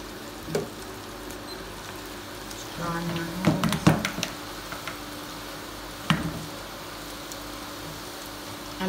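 Onions sizzle faintly in hot oil while being fried for crispy onions, a low steady hiss broken by a few sharp taps and clatters as they are separated and turned.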